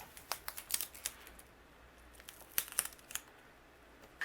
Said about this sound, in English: I'm going to flip this over now, and I'm going to put foam tape behind here.